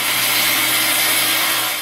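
A power saw cuts through a sheet of half-inch plywood, shaping a skateboard halfpipe transition. It makes a loud, steady, close-up rasping whine that runs unbroken for the whole moment, with no voices.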